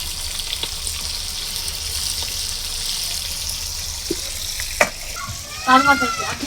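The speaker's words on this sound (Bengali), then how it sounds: "এই যে চিকেনটাকে এখন ভাজি করে নিতেছে" Chicken frying for a picnic pilau cooked outdoors in Bangladesh, giving a steady broad sizzle with occasional stirring clatter and a few sharp knocks, plus brief louder scraping near the end.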